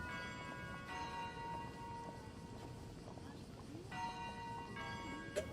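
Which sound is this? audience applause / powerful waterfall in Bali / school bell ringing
school bell ringing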